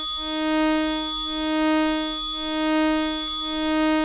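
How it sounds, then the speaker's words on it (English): A Korg Minilogue XD vector synthesis user oscillator morphs between a sawtooth and a bell-like waveform, a steady sustained harmonic-rich tone with a slow, gently pulsing swell in loudness. "it's going from sawtooth over on the left to a very complex bell-like thing on the right."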